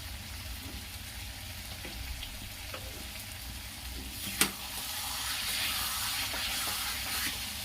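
Chicken curry masala frying in a pan gives off a steady soft sizzle and hiss, with a faint scrape or clink partway through and the sizzle swelling slightly toward the end.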